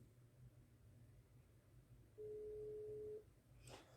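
A single steady phone tone sounds faintly for about a second over a quiet background on an outgoing WhatsApp call.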